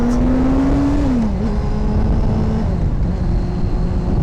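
A Honda 954 Fireblade motorcycle engine roars loudly and continuously during a wheelie, its pitch rising and then dipping as the throttle shifts, heard close up under steady wind rush.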